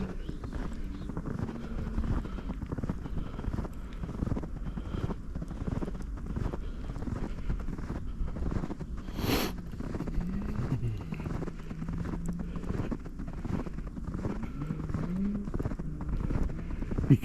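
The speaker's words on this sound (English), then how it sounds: "You can hear every step I take." Footsteps crunching through deep snow on a suburban street during a snowstorm in Delran, New Jersey, a steady close rhythm of compressed crunches with wind noise across the microphone and no talk.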